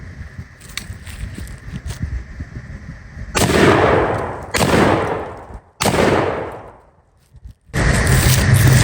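An old-school Remington 1100 shotgun firing outdoors: three loud, booming shots, each followed by a long rolling echo, with a fourth blast at the very end.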